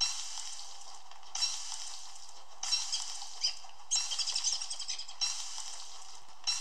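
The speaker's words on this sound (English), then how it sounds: "and we'll cook some of those berries too." Berries and a carrot cook over a campfire in the video game Don't Starve, a bright crackling sizzle that comes in repeated bursts of about a second each, evenly spaced with short gaps between.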